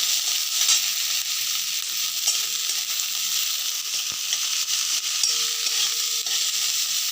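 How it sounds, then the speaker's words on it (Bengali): Steady, close sizzling of onion and green chili frying in a pan, with a continuous hiss and occasional clicks as it is stirred. "কেটে রাখা পেঁয়াজ কাঁচা লঙ্কা দুই একসাথে দিয়ে দিচ্ছি ভালো করে নেড়ে চেড়ে ভেজে নিচ্ছি"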